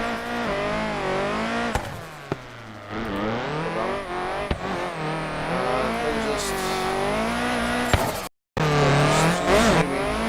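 Virtual Nissan S14 Silvia drifting in Assetto Corsa VR on street tires: a loud engine revs up and down with swooping pitch, tires squealing through slides, and a short dropout near the end; a voice speaks briefly.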